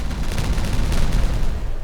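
Dense, rapid bursts of explosions from bombing terrain in the city-building game Timberborn, a loud, continuous crackling barrage of booms lasting about two seconds with no pause.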